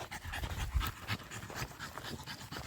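A dog pants rapidly after an uphill hike on a trail, close and rhythmic breathing with quick audible huffs, with no one talking.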